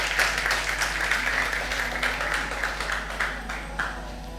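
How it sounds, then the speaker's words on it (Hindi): Studio audience applause welcoming a guest onto a Ramazan debate show, a continuous mid-level clapping that fades gradually, over a steady low hum. "बहुत सारी तालियों में मीशा अकमल"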